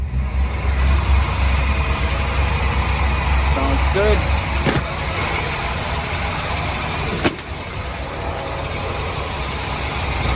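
Deep, steady rumble of twin Crusader 350 inboard engines on a Pacemaker sportfish boat running throughout, loud and close, with a brief voice speaking over it partway through.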